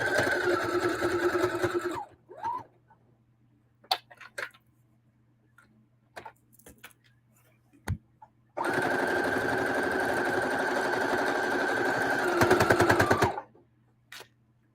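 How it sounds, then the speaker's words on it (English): A sewing machine stitches around a square casserole pad in two sustained whirring runs, with a short burst and scattered clicks of handling and pin removal in the quiet gap between. "I'm basically going to sew around this whole little square"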